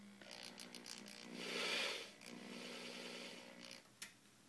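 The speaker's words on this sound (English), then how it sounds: "you just give the drill a little bit of a start" An electric drill spins steadily to wind wire into rings for dragonscale chainmail, giving a continuous motor whine that swells and eases over several seconds before a short sharp knock near the end.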